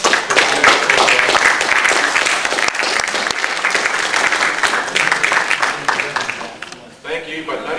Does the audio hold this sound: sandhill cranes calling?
no